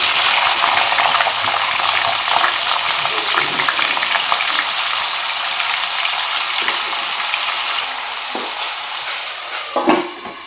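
Small potato pieces fry in hot oil with cardamom, cloves and cinnamon, a loud steady sizzle that never lets up, broken near the end by a few stirring knocks from a utensil against the pan.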